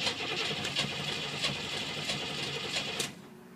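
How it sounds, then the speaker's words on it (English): A TPI engine cranks without starting, a steady rhythmic starter churn with regular pulses for about three seconds before it stops. "And this is what happens when I crank."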